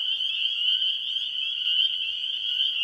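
A steady, continuous high trill of frogs calling in a Wisconsin marsh, loud and unbroken throughout with no gaps or voices.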